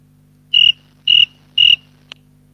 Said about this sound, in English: who's got crickets in the background there?